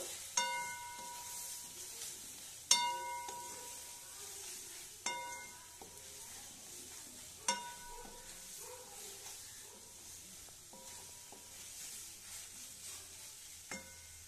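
A spatula stirs ginger, cumin and coriander paste in a pan and strikes the metal several times with ringing clinks, over a quiet, soft sizzle.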